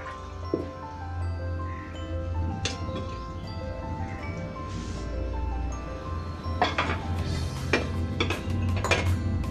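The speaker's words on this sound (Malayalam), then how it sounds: "നമുക്ക് ഈ പഴഞ്ചോറ് പ്ലേറ്റിലേക്ക് മാറ്റാം." Fermented rice soaked in salted water is moved from a clay pot onto a plate, with steady clinks and scrapes of a spoon against pot and plate over a low background hum, close and moderately loud.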